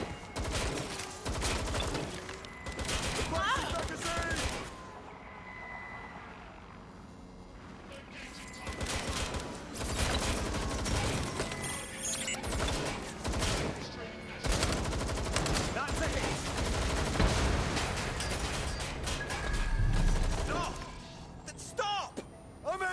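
Gunfire in a firefight in the video game Watch Dogs: Legion, with repeated loud bursts of shots and crashes over a long stretch, broken by a brief quieter lull, with voices speaking over the action.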